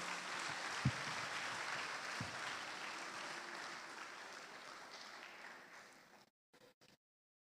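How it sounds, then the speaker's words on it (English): Applause from an audience honoring graduates at a primary school graduation ceremony, sustained and fairly distant, fading out gradually with a few last scattered claps at the end. "Let's give them another sound round of applause."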